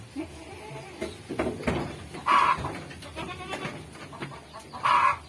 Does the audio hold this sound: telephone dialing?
no